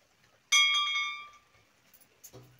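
A single bright temple bell strike rings out clearly and decays over about a second, followed by faint clinks and rustling.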